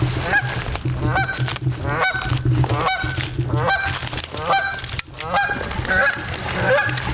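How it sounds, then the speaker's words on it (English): Repeated goose honks from a nesting goose, loud and close, calling in steady bursts roughly every second throughout with rough outdoor background noise. "Another nesting goose."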